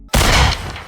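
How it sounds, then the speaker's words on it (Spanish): A single sharp, loud burst of gunfire cracks out of silence, its echo tailing off over less than a second. "Los disparos comienzan"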